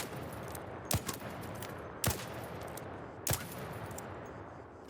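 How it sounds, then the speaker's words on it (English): Three evenly spaced single gunshots from an Anvil with no attachments in the video game ARC Raiders, each a sharp crack about a second apart, heard over a quiet, steady background hum. "So first of all, we're going to do Anvil 4. No attachments on. We'll do 6 shots."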